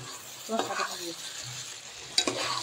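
Chopped tomatoes go into chicken meat frying in a pan for chicken curry: close, lively sizzling with two bursts of spatula stirring and scraping against the pan.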